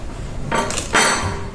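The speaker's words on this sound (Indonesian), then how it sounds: "Alat dan bahan yang diperlukan yaitu ada gelas cangkir." A glass cup is handled, giving a couple of short clinks and knocks about half a second apart, close and fairly loud against a quiet background.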